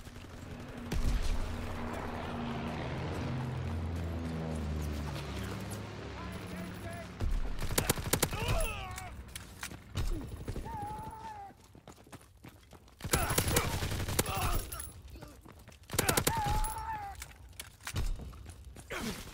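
Bursts of anti-aircraft flak gun fire in the World War II shooter Call of Duty: WW2, heavy repeated booms and crackling shots in a busy battlefield mix with intermittent voices and effects.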